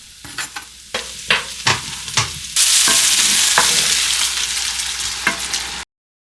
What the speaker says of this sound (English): Next, you're going to add some onion and a bit more liquid or broth so that things start to tenderize